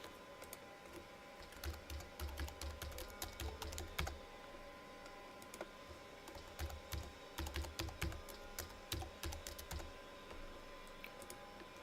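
Soft, close key presses on the keypad of a Windows CE handheld computer, tapping out in uneven bursts with short pauses between runs, in an otherwise quiet room.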